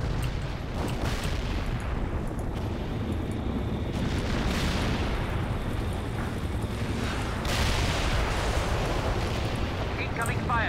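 Continuous, dense rumbling artillery fire and explosions from the World in Conflict video game, a loud battle wash with swelling booms, while players talk over it.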